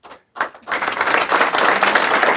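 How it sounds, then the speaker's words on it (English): At a sheriff's office swearing-in ceremony, after a brief pause, a crowd bursts into applause that builds and stays steady, with dense clapping throughout. "Big round of applause for them"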